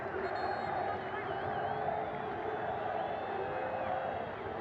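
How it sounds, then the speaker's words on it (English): Guatemalan football fans of Comunicaciones fill a stadium in the capital city with a steady, distant crowd roar and faint cheering, layered under a commentator's talk. "the Guatemalan fans who've come together in support Comunicaciones in the capital city, something to cheer for"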